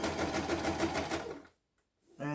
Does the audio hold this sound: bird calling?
no